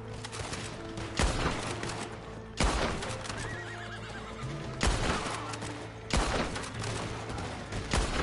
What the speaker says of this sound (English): The fella is shooting at them.